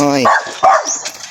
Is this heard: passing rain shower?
no